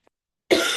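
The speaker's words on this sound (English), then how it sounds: "Sorry for the cough." A single sharp cough bursts out after a moment of silence during a Pilates stretching session, close and fairly loud.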